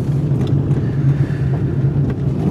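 A vehicle driving toward Kona gives a constant low engine drone with a steady hum, mixed with rushing wind noise, loud and close throughout.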